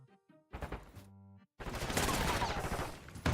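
Gunfire from the Black Ops 6 video game, with a short burst of shots followed by a long, loud, dense stretch of rapid firing and a final sharp blast, no talking.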